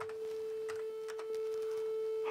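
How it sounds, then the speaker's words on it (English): A steady sine wave test tone from an Amiga 500 Rev. 5 computer under repair holds one pitch for the whole stretch. Faint clicks and a soft voice sit beneath it. "Ah, nice sine wave."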